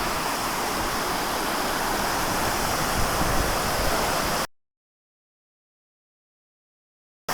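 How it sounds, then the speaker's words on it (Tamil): A waterfall roars in a constant, loud rush for several seconds, then cuts off abruptly into silence. "மேலேருந்து வர தண்ணி தான் இது."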